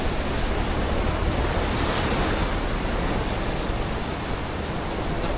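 Sea waves wash steadily onto a rocky island shore on a rainy morning, a dense, continuous roar of surf with wind noise that holds at an even, fairly loud level throughout, with no voices.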